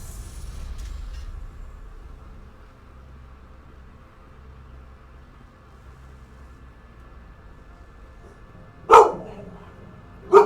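A dog gives two loud, close barks near the end of a quiet indoor stretch, with a low hum in the background.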